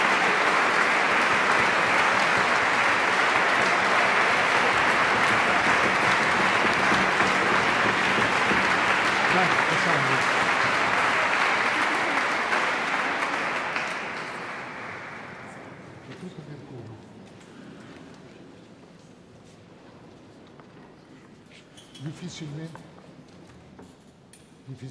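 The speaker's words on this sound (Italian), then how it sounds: "Boccherini in epoca moderna può ricevere tanti applausi" A concert audience applauds loudly after a performance of Boccherini's Stabat Mater in Sarnico, sustained clapping that fades after about fifteen seconds into a quieter hall with scattered sounds.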